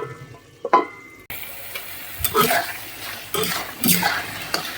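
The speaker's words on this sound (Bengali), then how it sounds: "এই পর্যায়ে একটু নেড়ে দেব, আবার ঢাকা দিয়ে দিব কিছুক্ষণের জন্য।" Loitta shutki (dried Bombay duck) curry being stirred in a pan, with metal spatula scrapes and clanks, a lid knocked against the pan and a soft sizzle between, close and fairly loud.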